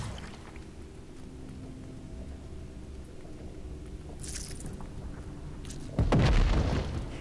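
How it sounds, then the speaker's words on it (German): Explosions from enemies in the action role-playing game Diablo 3, a loud burst of blasts arriving near the end after several seconds of quieter game ambience. "Egal wo ich hingehe, alle explodieren."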